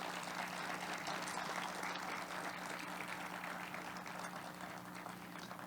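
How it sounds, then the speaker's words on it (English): Faint, distant applause from the audience at a state of the State address, a steady wash of clapping with a low hum underneath, gradually easing. "Let's give Brandon a round of applause tonight."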